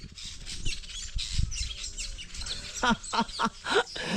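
Birds chirp and tweet in quick, scattered calls over a rustling outdoor background, growing more frequent toward the end.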